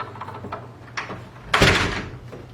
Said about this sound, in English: make sure that the door fully closes